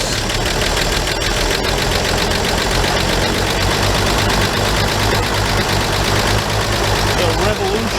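Engine of a 1941 G-506 truck running and being revved, a loud, dense mechanical clatter and rumble filling the whole clip, with someone talking over it.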